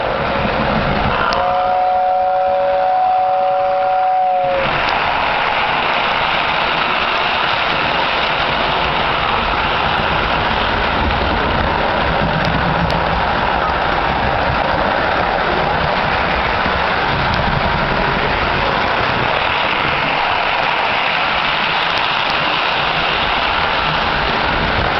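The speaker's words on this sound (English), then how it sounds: "we'll crank her up and I'll show you how sweet that 12-wheel tender is" Postwar Lionel 736 Berkshire toy locomotive with a 12-wheel 2671W tender circling its track, a steady close rumbling whir running throughout after a brief high tone at the start.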